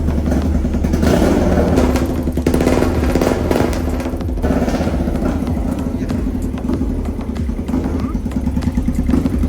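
A BMW F800 motorcycle engine firing up for a test start after restoration, with a loud, steady rumbling run full of clattering mechanical noise and no pauses.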